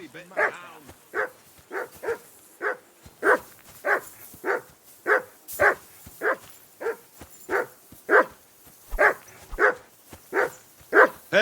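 A dog in a role-playing video game barks repeatedly in a steady, evenly spaced series of loud, close woofs.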